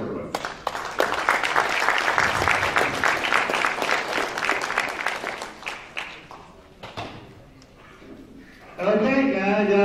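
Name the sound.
audience applause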